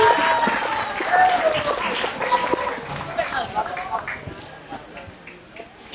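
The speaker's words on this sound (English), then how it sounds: "Give applause, everyone!" Students in a school classroom give a round of applause, scattered, uneven clapping that swells and dips, mixed with excited voices and chatter.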